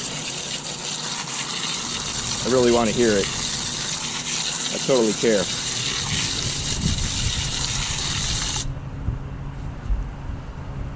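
Water gushes steadily into a container nearby during a shed roof build, with a person talking briefly over the pour before it abruptly stops.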